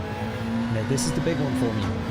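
Race car in the video game Gran Turismo 7 on the Red Bull Ring, its engine droning steadily and rising in pitch as it accelerates, heard under someone talking.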